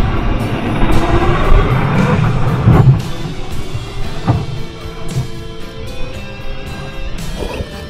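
An Arrma Outcast 6S BLX radio-controlled car bashes up a hill with a loud, continuous electric motor whine, punctuated by thuds and crashing impacts as it lands and tumbles.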